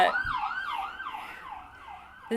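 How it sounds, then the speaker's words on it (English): A wailing emergency vehicle siren rises and falls in repeated sweeps, moderately loud and steady, with a faint distant quality and no talking. "we aren't going to charge extra for the sirens"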